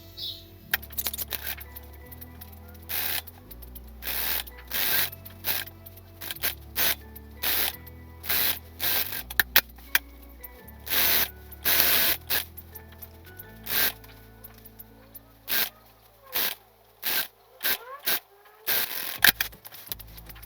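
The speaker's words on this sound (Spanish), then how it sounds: "Entonces vamos a hacer todo un pespunte, ¿sí? En las sisas y en el escote, uniendo las dos piezas." A sewing machine topstitches the armholes and neckline of a denim top, joining two pieces, in a series of short bursts of stitching separated by pauses, close and fairly quiet, with no talking.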